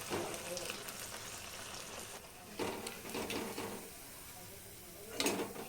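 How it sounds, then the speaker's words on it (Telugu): Corn vadas (makka garelu) sizzle and fry in hot oil, a steady crackling hiss with a few louder bursts as they are turned in the pan, fairly close. "ఇలా మొక్కజొన్న గారెలన్నీ నూనెలో కాల్చుకోవాలి."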